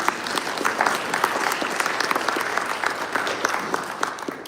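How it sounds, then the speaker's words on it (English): Audience applause at a 25th anniversary performance, greeting the piano accompanist: dense, steady clapping from a full room, sustained evenly for the whole stretch without voices. "give her a round of applause"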